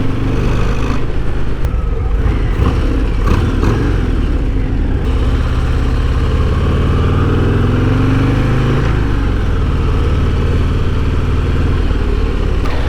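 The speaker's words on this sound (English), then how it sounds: "these Harleys here, all that torque down low, it takes off really like good without having to give it much throttle or anything" A 2024 Harley-Davidson Breakout with a 117 engine pulls away and accelerates, its loud, continuous low engine rumble rising steadily in pitch from close by over thirteen seconds, with no talking.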